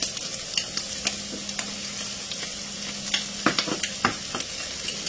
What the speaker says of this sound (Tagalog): Haluin natin ng maigi. I-mekos-mekos natin.